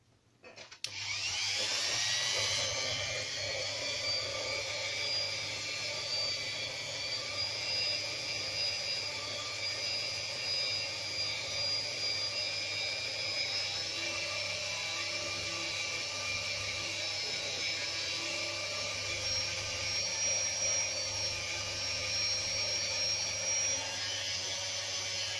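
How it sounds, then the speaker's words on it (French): A small hand-held or arm-mounted drill bores into a plastic miniature, a steady high-pitched motor whine that starts after a brief pause and runs continuously and loud for the rest of the clip, with no speech. "je perce à plusieurs endroits, puis après j'agrandis en utilisant le forêt comme ça"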